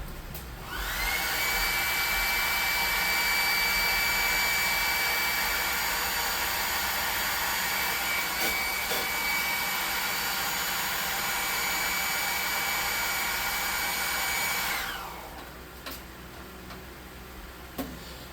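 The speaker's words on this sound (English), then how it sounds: "Now we're going to hit it with the hot air gun, the hair dryer." A loud, steady rush of hot air from a hot air gun drying miniature tabletop weapons runs for about fifteen seconds with a faint whine, then cuts off and leaves quiet room noise.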